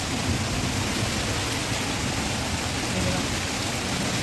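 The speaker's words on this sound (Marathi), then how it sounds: "वादळ वारा पाऊस हे बघा हे बघा हे बघा काय चालू आहे बघा विजांचा कडकडाट पाऊस जोरात" A heavy thunderstorm downpour with wind roars as a dense, unbroken hiss, loud and close throughout and heard alone.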